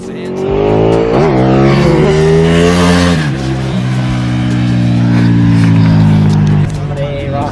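A Mazda RX-8 driven hard on the Mulholland mountain road revs loud and close, its engine pitch climbing and dropping through quick shifts, with people talking over the noise.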